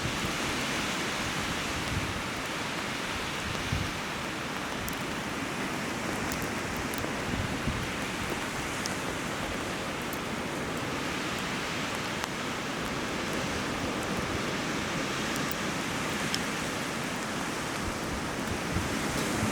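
Raindrops fall during an April snowstorm in Selfoss, Iceland, creating a steady, even hiss with scattered faint ticks throughout and no talking.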